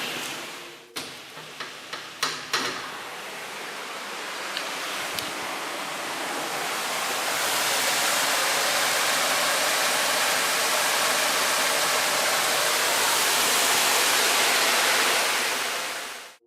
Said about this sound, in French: Là, je vais vous montrer la cascade.